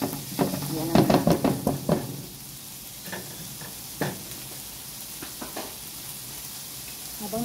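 Bacon sizzling and frying in a pan for a creamy cheese carbonara, a steady close hiss with a cluster of stirring and utensil knocks early on, then scattered clinks later.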